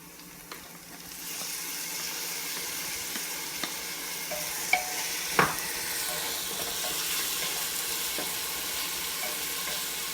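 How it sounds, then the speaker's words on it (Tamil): Tomatoes go into a hot pan for a mutton chalna and break into a loud, hissing sizzle after a quieter start, with a few sharp clicks and scrapes from a spoon as the frying goes on. "இப்போ நம்ம தக்காளியும் போட்டுடலாம்."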